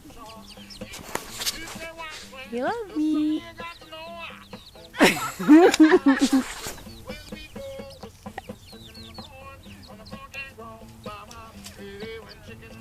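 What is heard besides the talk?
chickens clucking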